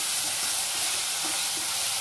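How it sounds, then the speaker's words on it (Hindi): Onions fry in a pan, with garlic already cooked in, giving a loud, continuous sizzle and hiss close by, plus faint scraping as they are stirred throughout. "प्याज को हम अच्छे से भून लेते हैं चलाते हुए"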